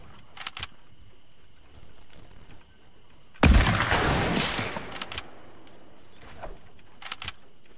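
A video game firefight bursts out in the middle, a dense loud volley of gunfire lasting about a second and a half, framed by scattered sharp clicks and smaller shots before and after.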